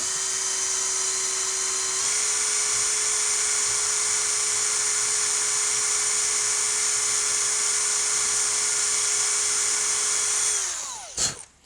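An electric drill bores a blind hole in a Mauser 71/84 barrel band with a steady, loud high-pitched whine lasting about ten seconds, then spins down abruptly and stops.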